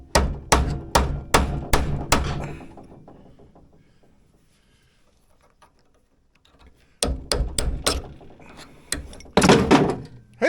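A Mayhew cold chisel is struck by a hammer in a run of sharp metallic blows, then a quiet gap, then another rapid series of loud strikes and clatter.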